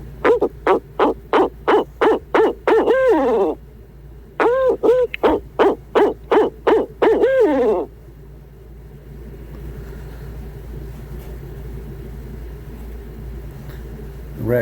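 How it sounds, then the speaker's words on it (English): Great horned owl hoots ring out in two clear, rapid series of about ten calls each, loud and close, followed by a steady low hum of background noise. "the GHO stands for the great horned owl"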